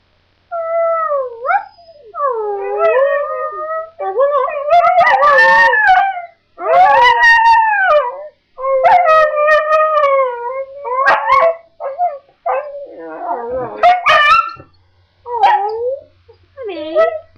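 A pet dog howls close and loud in long, wavering, pitch-sliding wails broken by short yips and whimpering gaps, continuing in repeated bursts, with no talk.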